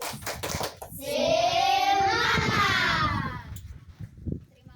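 Children in a classroom clap a rhythmic clap chant, with a loud sustained shouted chant running through the middle of the bursts of hand claps.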